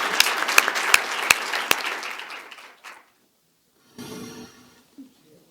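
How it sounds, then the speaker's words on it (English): A room audience claps for a panel at a 2019 active transportation symposium, a few sharp claps over a dense burst of applause that fades out, then a quieter noisy stretch follows after a brief silence. "Can everybody join me in giving them a round of applause?"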